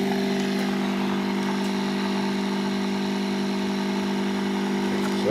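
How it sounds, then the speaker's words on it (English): Lens-assisted generator rotor spinning up, a steady loud motor-like hum with strong tonal whine that holds constant and rises slightly at the very end, with no talking. "the rotor speeding up quite nicely"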